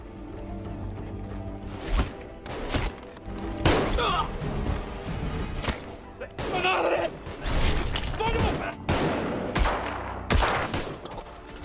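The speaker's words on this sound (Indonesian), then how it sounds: "Polo harus tewas dalam baku tembak dengan para anak buah dari Ramos" Heavy gunfire and thudding impacts during a shootout between gangsters in an action film, continuous bursts and booms layered with dramatic soundtrack, loud throughout with voices mixed in.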